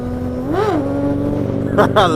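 A four-cylinder motorcycle engine in a video game revs, its tone rising and falling in one smooth swell before a second sharp burst near the end.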